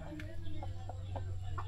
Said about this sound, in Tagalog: May mga manok.